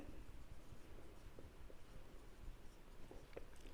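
Pen or marker scratching steadily across paper or a board while a ratio answer is written out, a faint continuous scribbling texture with small taps, no voices.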